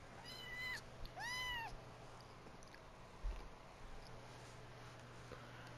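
A kitten gives two clear rising-and-falling meows close by, one after the other, then falls quiet over a low steady room hum with a brief bump.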